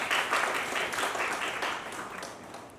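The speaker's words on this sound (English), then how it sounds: "a big round of applause for her" An audience applauds at a live event, a dense wash of clapping that stays fairly steady for a few seconds and slowly fades, with no talk over it.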